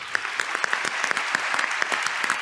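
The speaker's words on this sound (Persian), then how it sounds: "تشویق بکنید" An audience at a Quran recitation event applauds a Pakistani reciter, many hands clapping together in a dense, lively patter that runs without pause, fairly close and loud.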